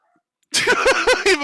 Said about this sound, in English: Even my dogs are screaming.